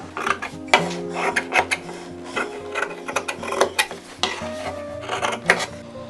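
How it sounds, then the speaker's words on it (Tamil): Scissors cut through fabric lining for a U-neck, giving a quick run of crisp metallic snips and clicks in an irregular rhythm, close and fairly loud. "இப்போ இந்த துணி லைனிங்கை கட் பண்ணிக்கிறோம்."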